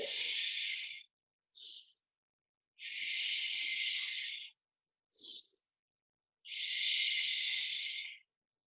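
Slow breathing during a yoga pose, with three long airy exhales and two short inhales in between, close and soft with silence between breaths.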